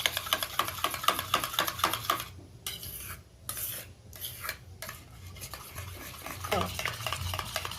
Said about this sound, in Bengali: এদিকে আমি দইটা মিনিট 5 এইভাবে ফেটিয়ে নেব।